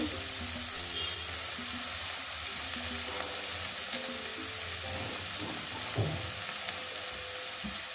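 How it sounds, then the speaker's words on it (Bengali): Pointed gourd seeds and scraps fry in a pan with a continuous soft sizzle, quiet and even, with occasional scrapes and stirring clinks from a spatula partway through. "এবারে পটল থেকে যেগুলো বের করেছি শাকগুলো বীজগুলো ওগুলো দিয়ে দিচ্ছি।"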